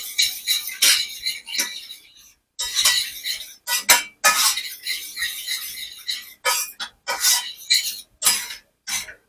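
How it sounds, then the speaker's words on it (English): A spoon clinks and scrapes against a glass while stirring sugar into homemade ginger wine until it dissolves, in repeated bursts of rapid tinkling separated by brief pauses. "Now we're just going to stir it around until the sugar is dissolved."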